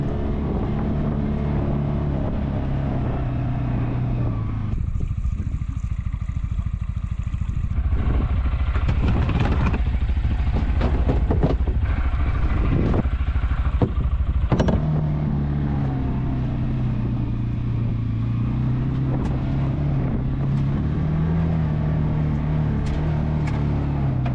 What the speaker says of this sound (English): The accessory vehicle being a UTV that I'm gonna use to carry, you know, all of the gear and tools that I need.